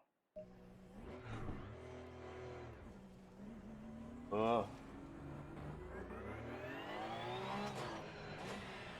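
A race car engine in Assetto Corsa Competizione, revving and shifting through rising and falling pitches, fairly close and continuous, with a person talking over it.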